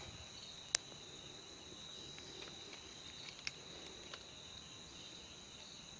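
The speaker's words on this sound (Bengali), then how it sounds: "ঝিঝি পোকার শব্দ তো আছেই কন্টিনিউ" Crickets chirp steadily through the night in a jungle, a constant high drone that carries on for the whole stretch with a few sharp clicks and taps standing out now and then.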